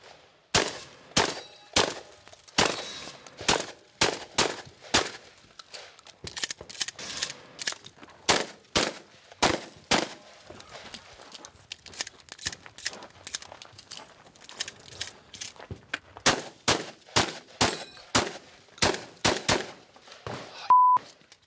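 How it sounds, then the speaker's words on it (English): Shotgun fired by a competitor at a 3-gun competition, a long string of sharp, loud blasts in uneven bursts with brief pauses for reloading, and steel plates ringing as they are hit, no talking. "Next is Rob Romero with the shotgun."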